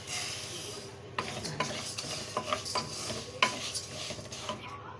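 Vermicelli fries in a pot of ghee and oil while a spoon scrapes and stirs it, giving repeated metallic scrapes and clinks over a soft, continuous sizzle, close and moderately loud.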